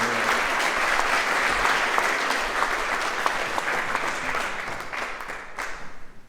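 Audience applause at a celebration marking completed building accessibility projects at the WCR Center for the Arts, a dense, steady clapping crowd that holds for about six seconds before thinning out at the end.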